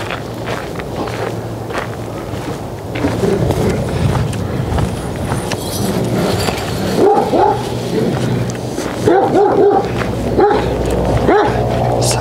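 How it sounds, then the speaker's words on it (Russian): Dogs bark repeatedly in sharp bursts from a residential neighbourhood of old houses in Ulan-Ude, heard over steady footsteps on a walk, mostly toward the later part. "Собаки лают."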